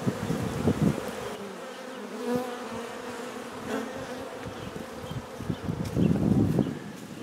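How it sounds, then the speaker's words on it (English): Bees buzzing around a small nucleus box hive outdoors, a steady droning hum of many insects with individual bees passing close by and swelling louder toward the end. "They're just tree hugging hippie bees."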